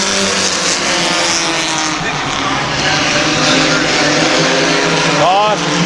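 Race cars roar around the Midvale Speedway oval in a continuous loud engine drone, with a brief rising whine near the end and an announcer talking over the noise.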